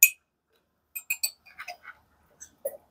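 A child bangs and clinks a spoon playfully, producing scattered sharp metallic taps in short bursts, one loud clack at the start followed by a cluster of quick clinks and a couple of later knocks, with no talking.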